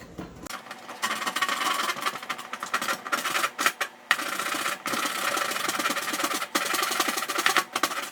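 A thin-bladed hand saw cuts wood on the upstroke during staircase work, rasping in quick, repeated strokes that are loud and close, with brief pauses between bursts of cutting.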